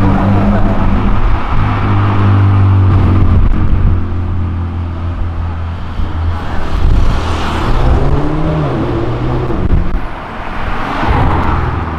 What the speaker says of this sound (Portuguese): vocês viram que essa Audi tá com pressa, né?